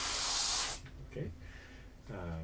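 Airbrush spraying paint over a custom stencil at a graphics studio: a loud, steady airy hiss for under a second that cuts off, followed by quieter handling sounds and a faint tone near the end.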